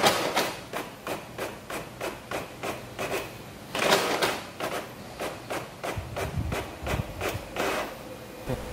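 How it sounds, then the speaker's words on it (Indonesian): An inkjet-style A4 printer working on an A3 page gives repeated mechanical clacks and shuttling strokes at a steady rhythm, close and moderately loud, with no talking. "Printer sedang proses."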